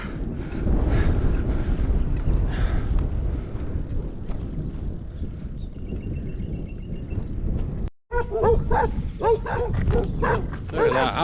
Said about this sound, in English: Other than the dogs creating a chaos.